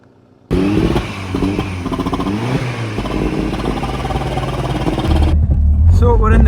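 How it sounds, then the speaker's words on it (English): A Peugeot 205 with a big red top engine and full kit revs loudly and continuously while creeping slowly over a grassy area, the engine note rising and falling close by, with talk over it. "I'm not really going fast, so I'm going to rev it quite a bit"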